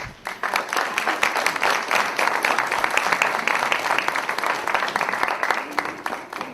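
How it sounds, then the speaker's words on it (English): Sustained applause from an audience at a talk, a dense patter of clapping that stays even and moderately loud from start to finish. "Round of applause."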